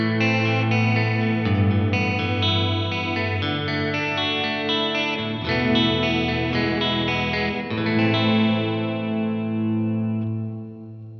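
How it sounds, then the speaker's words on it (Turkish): Guitar chords ring out through a UAFX Heavenly Plate reverb pedal with modulation at 50%, giving a shimmering chorus-like wash and a long plate tail. The playing is steady and fairly loud, with no voices. "Çok tatlı bir chorus'la reverb karışımı gibi bir sound elde ettik."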